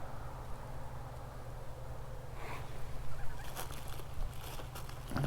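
Young geese at a clay pit pond, with soft honking and fowl calls close by over steady outdoor background noise, brighter calls breaking in during the second half.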